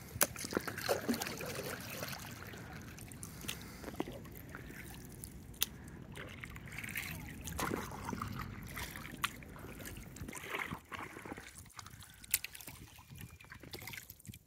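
A kayak or canoe paddled on clear spring water at Wekiwa Springs State Park, with soft splashes, trickles and drips from the paddle strokes at close range, fairly quiet and irregular.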